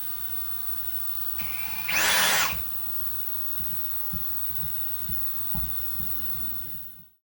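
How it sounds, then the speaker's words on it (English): A steady electric drill whine hums throughout as a snapped bolt is drilled out of an old rusty dirt bike, with a short, harsh grinding burst early on and a few faint knocks afterward. "I've drilled that screw out"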